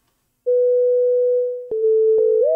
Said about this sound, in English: Hearing right here is nothing but sine waves.